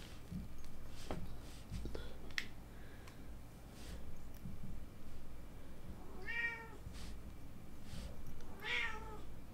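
A cat meows twice indoors, two distinct rising calls several seconds apart, fairly close and clear above a quiet room with faint clicks and handling noises.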